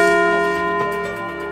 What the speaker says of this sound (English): Chester the dog is ringing the Liberty Bell.